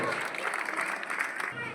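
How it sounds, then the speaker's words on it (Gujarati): Audience applause at a small gathering where a guest is honoured with a gift of a Bhagavad Gita book, a steady wash of clapping hands filling the whole short stretch at a moderate level. "આપણે તાળીઓના નાથે વધાવીએ."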